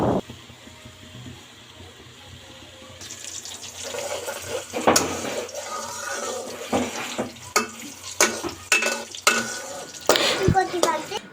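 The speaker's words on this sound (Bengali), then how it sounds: "পেঁয়াজ কুচিগুলোকে সুন্দর মতো বেরেস্তার জন্য ভেজে নিতে হবে।" Chopped onions fry in hot oil for beresta. The clip opens quietly, then a broad hissing sizzle rises, broken by sharp clanks and scrapes from a utensil against the pan.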